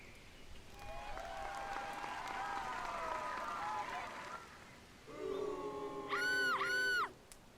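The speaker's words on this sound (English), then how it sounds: "I don't know why the clapping is so quiet." Quiet, thin applause from the VR game Vermillion plays at low volume, followed by a louder burst of synthetic electronic tones.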